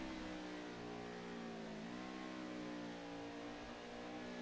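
A Next-Gen race car engine at Watkins Glen screams at high RPM in a steady sustained whine with a slight dip in pitch partway through, heard alone without voices.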